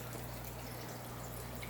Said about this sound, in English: it has this pump